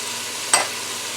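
Two cups of chopped onions drop into hot oil for a Creole chicken gumbo, giving one short, loud burst of sizzling over a steady faint frying hiss.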